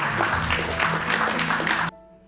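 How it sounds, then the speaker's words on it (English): Warm applause from a business forum audience for the CEO of the Kenya National Chamber of Commerce and Industry: loud, dense clapping for about two seconds over a faint tonal background, cutting off abruptly. "Give him a warm round of applause"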